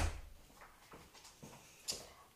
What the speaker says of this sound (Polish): Pójdę zamknąć drzwi.